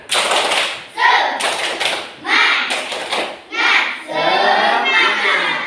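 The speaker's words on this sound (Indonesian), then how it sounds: "Oke, sekali lagi. Tepuk semangat." Students in a classroom do the tepuk semangat clapping routine again, several rhythmic bursts of claps mixed with children's voices chanting together, near and energetic.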